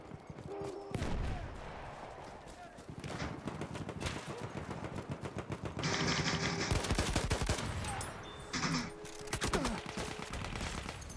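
Bursts of rifle gunfire from the video game Battlefield 1, fired from a five-round weapon, crack loudly and repeatedly across the clip amid dense battlefield noise, with some faint talk underneath.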